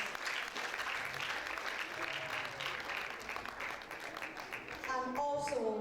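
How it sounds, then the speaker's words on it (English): Audience applause at a 2024 International Day of the Girl Child event, honouring UNFPA panel judges: steady, dense clapping from a sizeable crowd throughout, with a voice and whoops rising near the end. "A round of applause"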